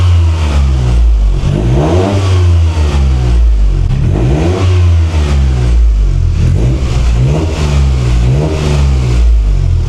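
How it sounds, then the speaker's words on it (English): A turbocharged Toyota GR Corolla engine fitted with a K&N intake revs hard again and again in rising and falling bursts, loud and close, with a steady rumble between the pulls. "This engine is very boost happy, so you should be able to hear a lot, even just revving it"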